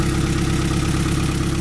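Honda Prelude with an F20B engine and a new Precision 6266 turbo runs steadily, a continuous deep, rumbling engine drone held at an even level throughout with no voices.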